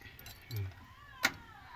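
Keys jingle briefly near a car's water temperature sensor, a soft clink followed by a sharper metallic jangle, close and faint, against quiet room noise while someone speaks.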